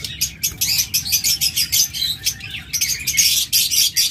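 A pair of opaline cockatiels at a bird sale chirp in quick, bright repeated bursts, close and fairly loud, with short pauses between calls and a faint low background hum.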